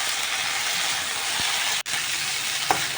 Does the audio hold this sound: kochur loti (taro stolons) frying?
yes